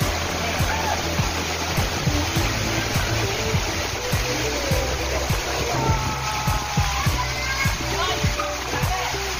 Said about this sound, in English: It's just heavy rain on me